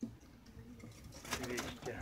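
Young pigeons in a loft give soft, low cooing calls, faint and close, with someone talking quietly over them and a brief rustle or flutter.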